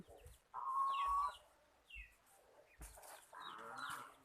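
Free-ranging chickens at a rural Thai village home make a few separate clucks and calls with quiet gaps between them. The calls are fairly close and moderate in volume against a quiet outdoor background.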